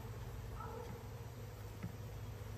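Honeybees hum softly around broken-up brood comb being gathered and rebanded, a faint steady buzzing with one brief louder pass near the end.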